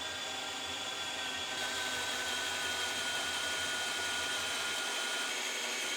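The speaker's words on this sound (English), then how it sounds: "drill all these spot welds out" A drill runs steadily while boring out spot welds along the roof side rails of a 2019 GMC Sierra Denali 2500HD, giving a continuous high whine with no pauses.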